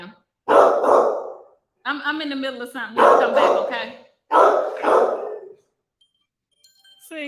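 A dog barks in loud, sharp bursts close by while someone talks over it at a doorway, with pauses of silence between the outbursts.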